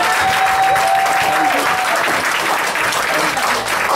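Sustained audience applause at a gathering after a baptism, dense clapping throughout at steady loudness, with a faint whistle or tone early on.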